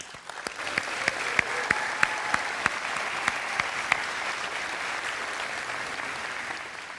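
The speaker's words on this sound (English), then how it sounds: "Please join me in giving them a round of applause" A graduation audience applauds the parents with a dense, sustained round of clapping, a few sharper individual claps popping out near the front.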